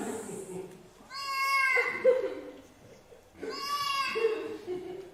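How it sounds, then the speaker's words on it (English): Two drawn-out, wailing cat yowls rise and fall like a catfight, each lasting about a second, over a low murmur of voices and light laughter. "my head is just full of fighting cats"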